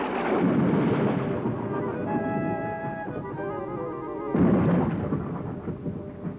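Rumbling thunder of an approaching storm rolls in heavy, broadband waves for several seconds, easing briefly before a louder surge returns near the end, with no talk.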